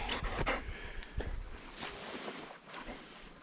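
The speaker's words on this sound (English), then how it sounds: "That was a long swim for a young dog." A young chocolate Labrador retriever pants hard and steadily after a long swim on a waterfowl hunt, the breathing close and continuous with faint outdoor background.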